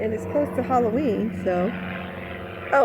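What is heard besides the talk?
airplane flying overhead near an airport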